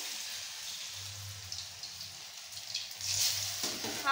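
Food frying in a pan, a faint, continuous sizzle and crackle with a low background hum, growing slightly louder toward the end.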